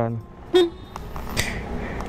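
Stock horn on a Honda PCX 160 scooter sounds once as a brief, thin toot near the mic, with someone talking before and after it.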